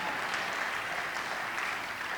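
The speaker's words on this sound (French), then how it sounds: "Oh, ton acclamation me gêne" A church conference audience gives steady applause and acclaim, an even wash of clapping heard from a slight distance with no speech over it.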